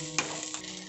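Grated boiled potato is stirred with spices in a pan, a brief close scrape and soft sizzle lasting about a second.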